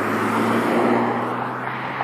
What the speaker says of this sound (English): This car passes,